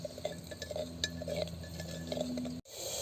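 A spoon clinks and scrapes against a cooking pot as green chillies and mint are stirred in, light rhythmic taps repeating over a low steady background hum.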